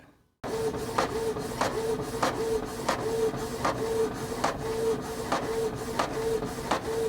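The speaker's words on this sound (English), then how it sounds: "So let me go ahead and print out the branch" An inkjet printer running low on ink prints a paper branch template, a steady whirring mechanical hum broken by regular clicking strokes as the print head sweeps back and forth, close and continuous.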